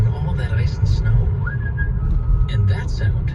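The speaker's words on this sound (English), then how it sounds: "that sound is our confident driver whistling Beethoven's Fifth" A man whistles Beethoven's Fifth inside a car as it drives over ice and snow, a thin melody above a heavy low road rumble, with speech over it.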